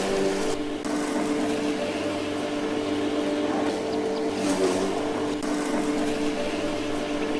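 A tractor drives in the farming video game Farmer's Dynasty, a steady droning engine hum with a low rumble that holds constant, broken by faint mechanical clunks.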